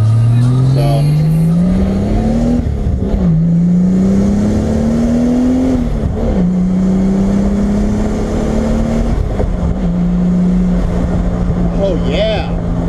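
A Toyota MK3 Supra with a 7M-GTE turbo engine revs loudly under full boost, the pitch climbing and dropping in repeated pulls, close and dominant throughout.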